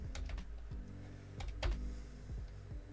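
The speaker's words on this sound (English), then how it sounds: "I think my keyboard might be down." Computer keyboard typing, a short burst of soft, close key clicks tapping in an irregular rhythm over a low steady hum, with no talking.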